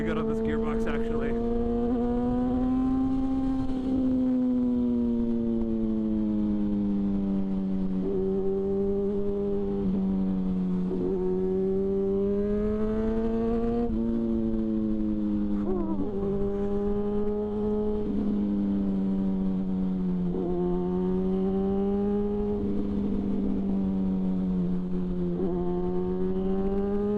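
A 2006 Yamaha FZ6 motorcycle being ridden revs up and down in repeated rising sweeps as it shifts through the gears, heard close with strong wind rush underneath.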